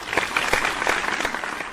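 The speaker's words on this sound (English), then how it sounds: "another huge round of applause for that breathtaking" Applause from a TV talent show audience at a grand final after a vocal performance, dense steady clapping filling the room for the whole short stretch.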